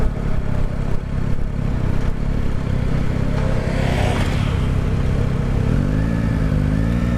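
Yamaha Tracer sport touring motorcycle engine heard while riding, a steady loud mid-pitched drone with wind noise, swelling briefly around the middle and rising in pitch near the end as it accelerates, with no talking.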